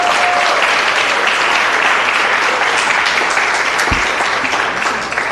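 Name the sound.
big round of applause for counselor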